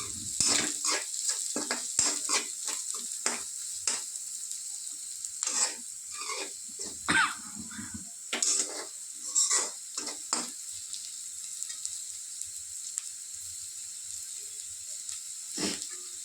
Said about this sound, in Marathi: यामध्ये अर्धा चमचा हळद टाकते. एकदम परतून घ्यायचं चांगलं.